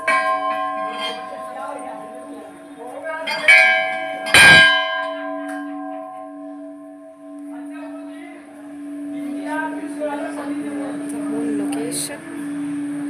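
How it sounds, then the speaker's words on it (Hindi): Bells ring in a Hindu temple, with loud clanging strikes around the middle of the clip over a steady ringing tone, then more bell sounds later. Ambient crowd noise and voices continue throughout. "घंटियों की आवाज़।"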